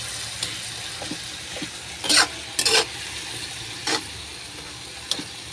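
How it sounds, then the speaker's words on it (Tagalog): Tomatoes being mashed and sautéed in a pan for sarciadong galunggong: a faint, steady sizzle with scattered scraping and stirring bursts from a utensil against the pan, and no talk. "dinudulog-dulog ko muna yan para lumabas yung juice niya. Yun yung ginagawa ko lalo pag nagigisa-gisa ako."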